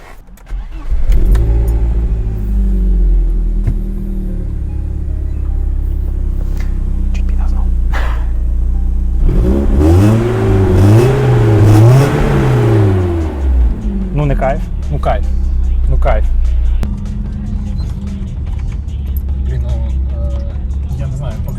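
A BMW E30 with a 1.8-litre four-cylinder engine idles with a deep exhaust burble, then revs hard in several quick rising blips before dropping back to idle, with people talking nearby.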